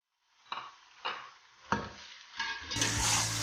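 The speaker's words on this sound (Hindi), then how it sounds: "ये चिकन हमने इसमें डालना है और इसको हमने अच्छी तरह भूनना है।" Chicken tossed with turmeric, salt, red chilli powder, cumin and crushed red pepper hits a hot pan with onions, giving a few separate stirring scrapes and splashes that build into a steady close sizzle.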